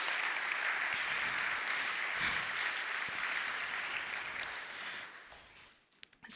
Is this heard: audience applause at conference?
yes